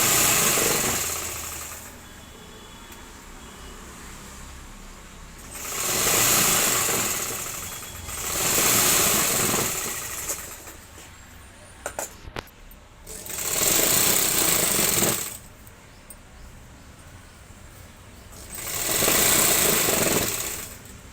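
A sewing machine stitches a blouse in four loud bursts of rapid mechanical whirring, each lasting a couple of seconds, separated by quieter pauses and one small clatter between runs.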